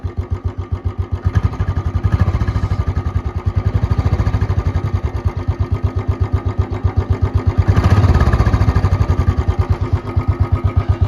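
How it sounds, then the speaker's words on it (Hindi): A Royal Enfield Bullet 350 ES motorcycle fitted with a short bottle silencer and C-bend pipe runs at idle with a steady, evenly spaced thumping beat, briefly swelling louder around the middle before settling back, no speech. "मैं पीछे से आपको साउंड सुनाता हूँ इसके साइलेंसर की।"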